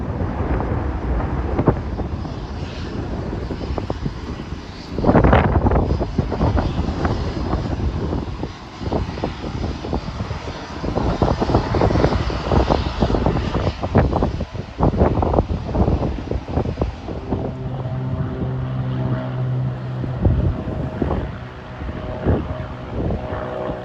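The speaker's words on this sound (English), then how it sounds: "That's just a local general aviation flight. Looks like a Cessna 172." Drawn-out drone of a Cessna 172 light general aviation plane at Burlington International Airport in Vermont, rising and swelling with wind buffeting the microphone, passing fairly close.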